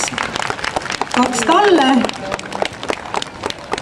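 Audience applause at a sheep show, scattered clapping from a crowd under someone talking on a loudspeaker, with a brief animal-like call rising over it midway.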